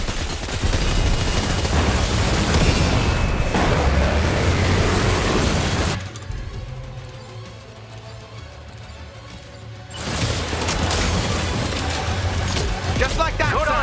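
Heavy gunfire and explosions from the video game Death Stranding 2, during a giant ghost mech boss fight: loud, dense bursts fill the opening seconds, drop to a quieter rumble midway, then the barrage returns.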